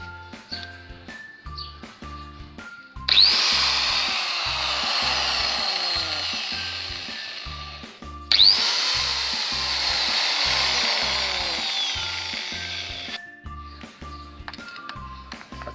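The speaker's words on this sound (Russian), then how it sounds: "Вот включил болгарку маленькую" A small Makita angle grinder switched on twice, each time spinning up with a sharp start into a loud, steady high whine that runs for several seconds before cutting off, with quieter clicks and handling noises between runs.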